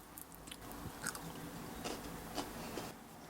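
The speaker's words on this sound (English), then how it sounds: "Can you hear the crunch?" Close, crisp crunching as someone bites and chews crispy potato fries, several sharp crunches spread over a few seconds, with no talking.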